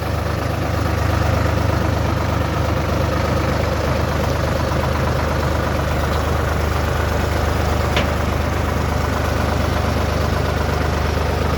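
A Solis 50 tractor engine drones steadily at a constant idle during loading, low and rumbling, with faint outdoor noise and no talking.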